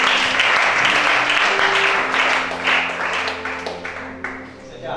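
A church congregation breaks into sustained applause, dense clapping that stays loud and then gradually thins out, mixed with voices and a steady held tone underneath.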